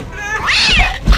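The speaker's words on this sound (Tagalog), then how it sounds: "Bigla siyang inatake ng pusa na matagal na niyang inaalagaan." A long-kept pet cat lashes out at the man caring for it, giving a loud, rising and falling yowl followed by a short thump, close and alone with no talk.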